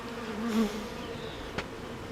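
A honey bee buzzes near an opened weak hive being cleaned out, a close steady droning whine that swells briefly and then fades, with a faint tap near the end.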